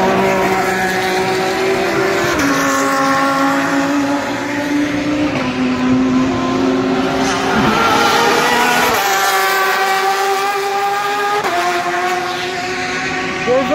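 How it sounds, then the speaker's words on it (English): BMW M8 race car engine at the Sebring 12 Hours, a loud howl that rises through the gears with upshift steps as the car passes, with other race traffic around and voices underneath. "The M8 sounds nice."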